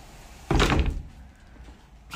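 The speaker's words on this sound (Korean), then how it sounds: "이렇게 그냥 문을 열어주면 되게끔 이렇게 만들었습니다" A balcony window or door in a home is pulled open, giving one loud thud-like knock followed by a soft, short scrape as it slides, with no talking.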